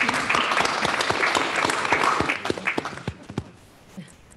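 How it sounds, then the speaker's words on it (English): Applause from the room at a board of directors meeting, dense clapping by a group that thins into a few scattered, closer claps before it dies away. "there was a resounding applause"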